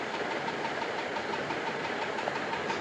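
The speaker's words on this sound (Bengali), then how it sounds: "তারপর ভালো করে তেলটা গরম করে নিয়েছি, তারপরে দিয়ে দিলাম, ছেড়ে দিচ্ছি বড়াগুলো।" Palm fruit fritters fry in hot oil, giving a dense, steady sizzling crackle that holds evenly throughout at close range.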